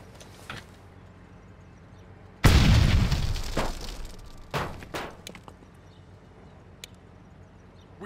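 A frag grenade explodes in an urban combat game, Full Spectrum Warrior, one sudden loud close blast with a rumbling decay, then a few lighter pops and bursts that fade into quiet background noise.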